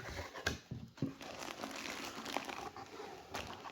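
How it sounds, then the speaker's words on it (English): Plastic bag wrapping a heated vest crinkles and rustles softly as it is handled during unboxing, with scattered sharp crackles over a low, quiet background. "So comes wrapped in a plastic bag."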